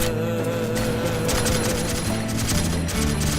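Rapid bursts of automatic gunfire from a shooting video game rattle on continuously and loudly, with dense repeated shots running throughout.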